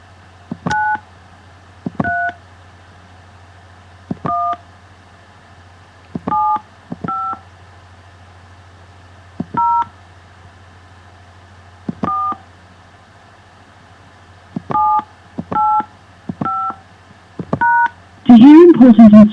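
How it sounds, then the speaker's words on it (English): Touch-tone keypad beeps entering a PIN, about a dozen short two-tone presses in an irregular rhythm over a faint line hum, ending in a brief burst of voice. "Please enter your host PIN. When finished, press the pound key."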